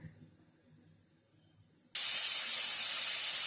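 A pressure cooker holding puran for a Holi meal lets out steam: after a quiet stretch of faint kitchen sounds, a sudden loud, sharp hiss bursts out and keeps blasting steadily to the end.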